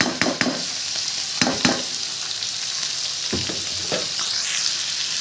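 Boiled vegetables sizzle steadily as they fry in a pan for a Chinese vegetable dish, with loud scraping stirs from a spatula breaking through the constant hiss.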